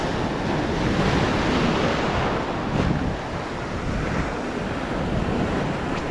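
Ocean waves crash against rocks on a windswept shore facing the northeast monsoon, a loud continuous roar of surf with wind buffeting the microphone throughout.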